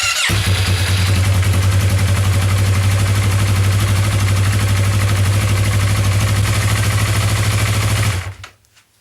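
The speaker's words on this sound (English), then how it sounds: "okay, so I've started the engine." A Yamaha YZF-R3 / MT-03 2015 motorcycle engine fires up after an oil and filter change and settles into a steady, loud idle with a low throbbing rumble, then cuts off abruptly at the end.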